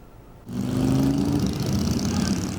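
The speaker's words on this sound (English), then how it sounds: "The revving of motorcycle engines through Lackawanna County, rain or shine" Motorcycle engines rev on a memorial ride through Lackawanna County, a steady loud engine drone that swells in abruptly and holds with rising and falling revs, nearby and alone.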